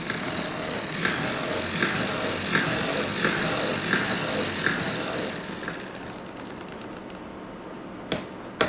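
A circular sock knitting machine cranked by hand while knitting a ribbed sock gives a steady mechanical whirr with a soft rhythmic pulse, then slows and ends with a couple of sharp clicks.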